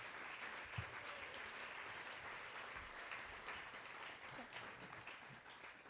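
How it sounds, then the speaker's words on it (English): Round of applause for a board of directors at an awards event, steady crowd clapping at modest, slightly distant level lasting about six seconds with a few louder claps standing out. "Let's give a round of applause to the Bright Promises board of directors"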